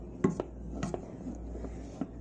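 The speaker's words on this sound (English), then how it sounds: "It is, I'm just stirring it." Marshmallow fluff fudge stirred in a pot, a spoon scraping and knocking against the sides in a few irregular taps and scrapes, fairly close and quiet, with no talk.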